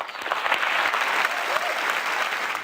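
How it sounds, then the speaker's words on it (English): An audience applauds after a talk urging people to become organ donors, a full, even burst of clapping from a large crowd filling the room, sustained throughout without speech. "Round of applause."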